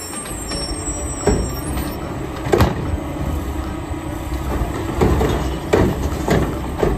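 A toy or cartoon garbage truck with a steady engine rumble, broken by several sharp air-brake hisses and clanks, heard alone with no talk.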